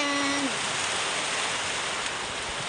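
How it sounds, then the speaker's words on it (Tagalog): Heavy rain pours down in a dense, loud, steady hiss that fills the whole clip, with a brief tonal hum fading out near the start. "saktong-sakto bumuhos yung ulan pagkarating namin"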